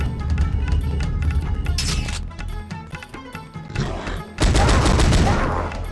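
Weapon fire in Powerslave (Exhumed) on the Sega Saturn, aimed at statues, with dense rattling shots, a crashing burst, and a louder sustained blast of impacts toward the end over steady game music.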